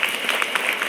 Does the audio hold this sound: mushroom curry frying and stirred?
no